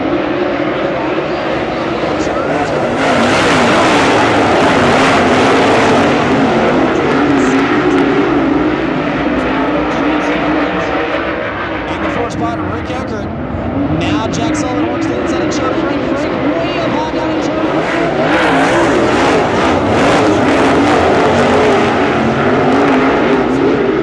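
Late model race cars in a World of Outlaws heat race on the dirt oval at Bubba Raceway Park power out of a turn, a loud, continuous roar of engines that swells and fades as the pack accelerates past.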